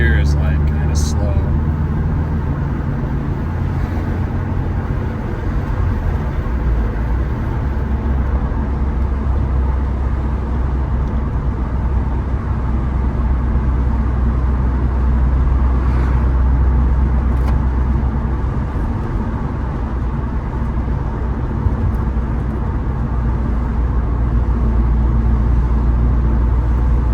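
A 1997 Mitsubishi Eclipse GSX cruising in third gear, its engine and road noise a steady low drone heard from inside the cabin for the whole stretch, with no talk.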